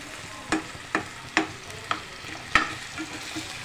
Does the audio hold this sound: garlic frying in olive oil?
yes